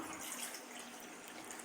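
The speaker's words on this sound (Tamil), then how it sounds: "மிக்ஸ் பண்ணி கொஞ்சமாக வாட்டர் ஆட் பண்ணிக்கலாம்." Water poured into a green dhal coconut milk gravy, a steady soft hiss of running liquid, faint and continuous.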